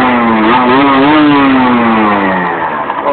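A 2011 Derbi DRD Racing 50 SM motorcycle revving, its small two-stroke engine buzzing loud and close, rising in pitch, holding, then easing down toward idle at the end.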